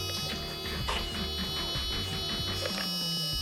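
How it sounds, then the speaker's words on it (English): The starter motor cranks a Nissan S13 engine that does not start, producing a rough, rhythmic churning whir that runs steadily and close without any voices. "Starter motor doesn't sound too good"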